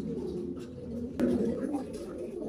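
Pigeons coo softly in a pigeon loft, low throaty calls close by with a brief sharp click partway through.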